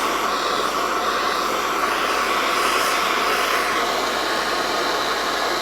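Torch flame roaring steadily while heating an aluminium piece for annealing, a continuous loud broadband hiss with no breaks and no voices.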